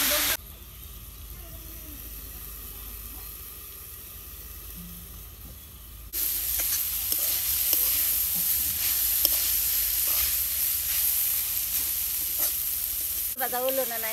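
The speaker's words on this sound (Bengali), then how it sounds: "হ্যাঁ গাজর ভাজা হইছে।" Carrots fry in a pan over a village cooking fire, a steady sizzle running throughout, faint at first and then louder and brighter from the midpoint, with occasional stirring clatter.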